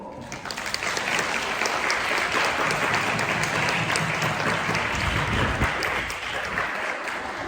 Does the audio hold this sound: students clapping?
yes